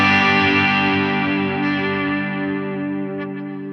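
A Fender Modern Player Jazzmaster HH electric guitar, heavily driven with its volume fully up, sustains a thick, saturated chord that rings on and slowly decays, loud and alone with no voices.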